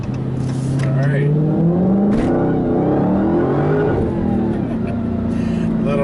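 A 2020 Dodge Challenger Hellcat with a manual gearbox accelerates hard with some wheel spin, its engine roaring loudly and close as the pitch climbs through the revs, then holds and rises again.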